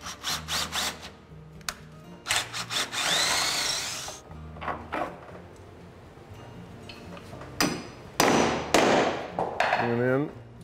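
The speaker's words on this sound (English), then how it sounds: "So now we're going to clean this hole, which is metric, with a 3/8 drill bit." A 3/8 drill bit cleaning out a metric bolt hole, heard as several short bursts of drilling and grinding with pauses between. The bursts are fairly close and mixed with handling noises and people talking.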